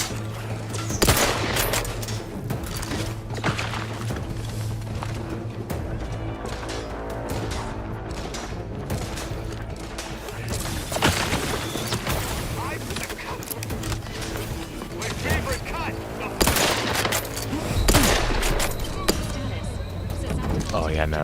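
Heavy gunfire in the sci-fi role-playing shooter The Outer Worlds 2, sustained volleys and scattered impacts with crashes running throughout, mixed under frequent talk and a steady musical drone.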